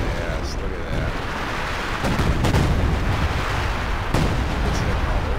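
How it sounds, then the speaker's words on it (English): Artillery barrage landing in Company of Heroes 2, a dense, loud rumble of heavy booms that swells midway with sharp impacts, constant and thick with no pauses. "Rain that artillery down."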